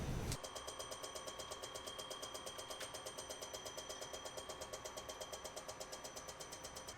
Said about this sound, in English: while the machine is surfacing the one head